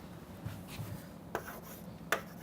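Chalk or marker scratching and tapping across a lecture board in short strokes, with a few sharp taps, fairly quiet against a faint room hum.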